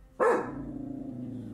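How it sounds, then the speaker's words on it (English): A single loud, sharp bark from a dog at night, close by, followed by a low lingering growl-like hum that trails off. "footage begins abruptly with her dog barking into the darkness"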